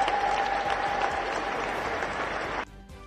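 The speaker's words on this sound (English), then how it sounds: "Let's give him a round of applause for expressing himself." A crowd at a State House gathering claps steadily in a sustained round of applause, which stops abruptly near the end, leaving a quieter room.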